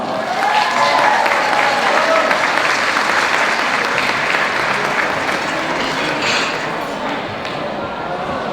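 An audience at a gala applauds a city council member, sustained loud clapping from a large crowd that fills the room and fades slightly toward the end.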